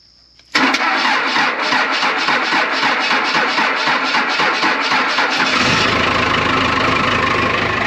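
A Cummins diesel engine swapped into a Jeep XJ cranks in a fast rhythmic churn after a brief quiet start, then fires and settles into a loud steady idle in cold weather.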